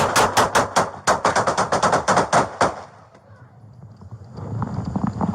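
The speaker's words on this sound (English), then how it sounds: "shots fired" A rapid volley of loud, close gunshots rings out during a police confrontation with an armed man, about a dozen sharp bangs in quick succession, followed by quieter background noise.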